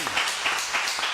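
Audience applause at a ceremony honoring artists, a dense steady wash of many hands clapping that fills the short moment at even loudness without voices on top.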